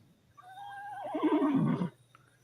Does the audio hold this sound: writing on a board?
no